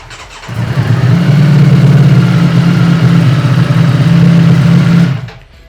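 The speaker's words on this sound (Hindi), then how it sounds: "and of course this is a Ducati, this is a V4 engine, तो उसकी बात ही कुछ और है" A Ducati with a V4 engine cranks and fires up, then holds a loud, rough, close-up idle for several seconds before cutting off abruptly.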